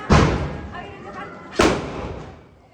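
Loud firecrackers going off outdoors during a hometown festival, two sharp close blasts about a second and a half apart, each trailing into a rumbling decay.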